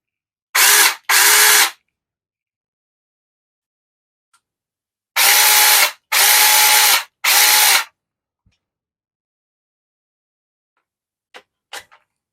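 A battery-powered mini chainsaw on a 7.5Ah battery gives five short loud buzzing bursts: two quick ones, a pause, then three more, followed by faint clicks.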